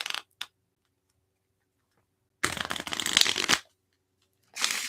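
Tarot cards being shuffled in two bursts, a brief riffle at the start and a longer, louder papery flutter in the middle, with another shuffle starting at the end and quiet pauses between.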